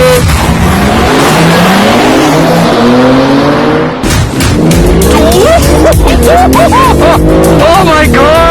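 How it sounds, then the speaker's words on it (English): BMW launching at full throttle under launch control with stability control off, a loud engine roar climbing in pitch through several upshifts with tire noise, very close, with excited speech over it. "And full brake, full throttle,"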